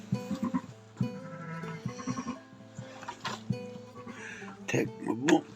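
Sheep bleat repeatedly on a farm in winter, including thin high cries of newborn lambs born overnight, while a person talks nearby over the calls.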